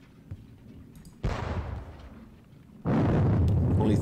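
Artillery fires in the Napoleonic Battles Leipzig video game: two heavy booms, the first a sharp blast that fades out and the second a loud, sustained rumble that carries to the end.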